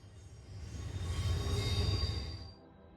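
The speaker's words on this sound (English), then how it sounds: "Here's our 11th train of the day, an eastbound, just coming down the hill into the curve and then east towards Altoona." Eastbound freight train rolling down the hill into Horseshoe Curve, a faint distant rumble that swells and fades, with a thin wheel squeal over it.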